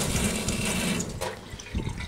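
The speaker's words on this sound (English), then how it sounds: "Comes out of the faucet there." Water runs steadily from a faucet inside a converted bus, a full rushing stream that eases off slightly near the end.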